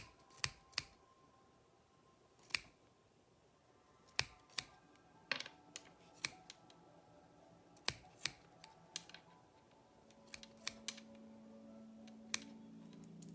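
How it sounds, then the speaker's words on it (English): Scissors snip through tassel loops while making a mala, a series of sharp, close clicks and cuts spaced irregularly, some in quick pairs, over a quiet room with no talk. "So what you can do is kind of comb through with your scissors. Just kind of comb through and you'll catch the loops with your scissors."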